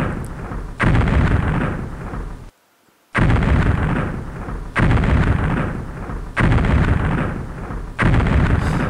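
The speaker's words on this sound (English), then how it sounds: "Bombing the rail line" Bombing strikes on a rail line in a tactical wargame: a series of loud, heavy blasts with long rumbling tails, one after another, broken by a brief silent gap partway through.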